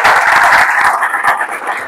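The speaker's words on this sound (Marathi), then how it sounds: "त्यांच्यासाठी एकदा जोरात टाळ्या वाजल्या पाहिजे" A college audience in Kolhapur applauds at an event about Chhatrapati Shivaji Maharaj, a short, loud burst of dense crowd clapping.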